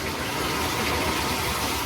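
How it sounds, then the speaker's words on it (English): Tap water pouring steadily into a bathtub while a Chihuahua is washed, a dense, even gush of running water close by with no pauses. "Next thing you do is you turn on the water."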